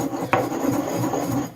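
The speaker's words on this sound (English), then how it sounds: "So next, we're simply going to grind these ingredients together." Dried rosemary and garlic powder are ground together, a steady close rasping and rubbing scrape, as in a mortar, that continues without pause for the short duration.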